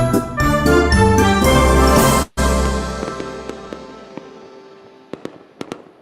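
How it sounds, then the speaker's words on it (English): Fireworks go off in a loud, ringing burst that breaks off abruptly. Scattered sharp pops and crackles follow, fading into the distance with no voices. "the fireworks are popping off"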